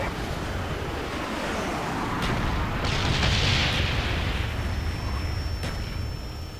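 An artillery strike in Call of Duty: Black Ops, a continuous roaring wash of distant explosions and rumble that swells slightly toward the middle and holds steady throughout, with no talking.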